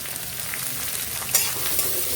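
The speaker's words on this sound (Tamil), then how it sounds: "அதையும் போட்டு நல்லா வதக்கிக்கலாம்." Finely chopped onions sautéing in hot oil in a pan give a steady, close, broadband sizzle with a brief stir scrape near the middle, no voices.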